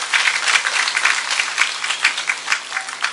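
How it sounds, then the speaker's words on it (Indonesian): An indoor audience at a religious gathering claps together, a dense and steady round of applause throughout with no pause. "Tepuk tangan riyen kagem panitia."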